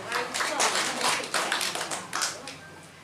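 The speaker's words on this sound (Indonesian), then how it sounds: "Tepuk tangan untuk PT BES tuh." Seminar attendees at a home-sharing business event in Sambirejo Jiwan, Madiun, clap in a short, uneven burst of hand claps heard fairly close in a room, tapering off within a few seconds.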